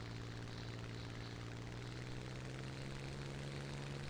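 Steady, droning propeller engine of a Spitfire Mark 16 fighter plane in the War Thunder video game, a constant buzzing hum with no breaks and no talk.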